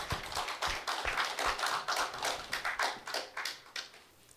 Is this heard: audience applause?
yes